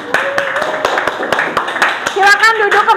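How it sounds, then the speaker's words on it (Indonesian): Audience claps for a student group that has just presented in a class session, a short burst of hand claps under talking, with a voice rising near the end. "Oke, tepuk tangan untuk kelompok"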